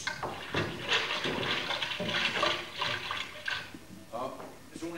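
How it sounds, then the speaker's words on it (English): Stage sound effect of waves lapping on a shore, a steady washing, splashing swell that rises and falls throughout, with voices speaking over it. "it's only the lapping of the waves"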